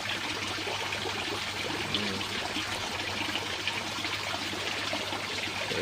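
Steady water trickling and flowing through a homemade fish pond filter at reduced pressure, a continuous even wash of sound with no talking.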